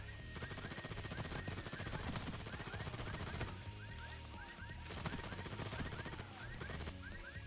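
Rapid gunfire in Payday 3, automatic weapons rattling in quick repeated bursts across the whole stretch, fairly faint, mixed with music-like tones and game sounds, with a voice talking at times.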